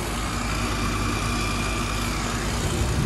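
A Ruud air conditioner unit runs with a steady, constant mechanical hum and whir that holds evenly, with no breaks, from start to finish.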